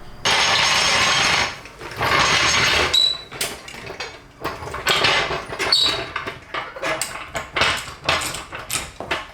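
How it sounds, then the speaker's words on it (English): Repeated mechanical ratcheting clicks and cranks of a car jack raising a BMW E36 come in bursts, close by and fairly loud, with short pauses between strokes. "let's get the jack and get this thing in the air."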